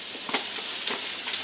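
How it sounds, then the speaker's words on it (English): Butter melting over low heat in a large skillet makes a constant gentle sizzle, broken by a few light scraping stirs. "Put it on a low heat, because first we're putting in the butter."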